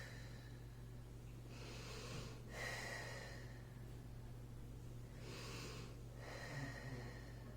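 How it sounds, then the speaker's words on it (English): Two slow, soft breaths during a pilates exercise, each a brief breathy rush a few seconds apart, faint and close against a low steady hum, with no talking. "And I'm still breathing."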